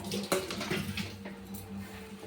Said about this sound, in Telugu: వాటర్ వేసుకొని ఒకసారి కలిపేసుకొని